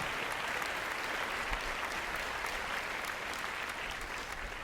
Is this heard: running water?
no